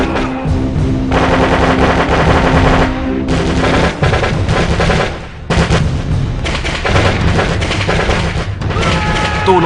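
A sustained burst of commando gunfire, dense rapid automatic shots with heavy booms, loud and close, running almost without pause.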